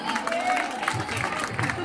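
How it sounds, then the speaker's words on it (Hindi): A school farewell audience claps steadily in a dense, continuous wash of applause, with faint cheering mixed in. "पर वह तभी आएंगे जब बजेगी तालियां ढेर सारी।"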